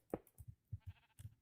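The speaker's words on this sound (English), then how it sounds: "those sheep show up fast" Sheep in a video game bleat in several short, quiet calls that come in quick succession, with nothing else heard.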